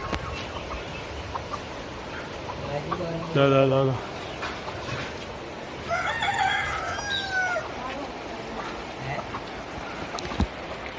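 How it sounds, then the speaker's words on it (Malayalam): A rooster crows loudly nearby, followed by further crowing and clucking from chickens outdoors as rain begins, with a voice speaking briefly over a steady background hiss. "നമ്മുടെ കോഴികളൊക്കെ ഇവിടെ പുറത്തുണ്ട്"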